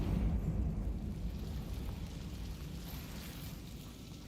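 A Confringo blasting spell explodes in Hogwarts Legacy with a heavy, rumbling burst that starts loud and slowly fades over a few seconds.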